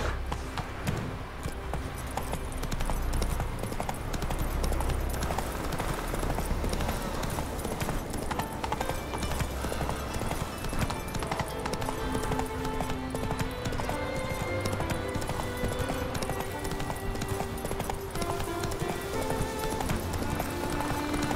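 Roach the horse gallops in Witcher 3, with steady rapid hoof clip-clop running continuously and fairly close, and a brief whinny audible under game music and ambience.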